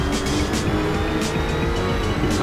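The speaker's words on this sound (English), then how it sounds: "Out on board now with Holden Jones in the Lotus Evora, closing up to the Nissan GTR through Villeneuve." Lotus Evora and Nissan GT-R GT3 race cars in Assetto Corsa run at Imola through Villeneuve, with a dense, continuous engine roar and gear-shift surges filling the sound, loud and close with no talking.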